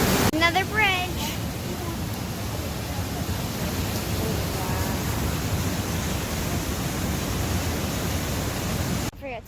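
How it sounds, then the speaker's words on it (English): Standing behind a waterfall in New York, a dense, even roar of falling water fills the scene, opening with a brief excited voice over the rush. "It sounds like there's a waterfall."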